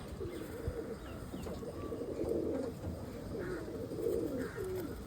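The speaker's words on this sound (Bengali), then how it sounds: "ফুলশিরা বাচ্চা, লাম্বাড়ি, একদম অরিজিনাল পায়রা, পুরোনো লাইনের পায়রা" Lambadi pigeons of an old pure line coo steadily in low, rolling murmurs, overlapping calls swelling and fading in a close, continuous chorus with a few faint chirps above.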